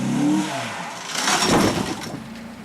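A car engine revs up as the driver floors the gas while feathering the clutch during a driving test, rising in two swells over a couple of seconds with no talk.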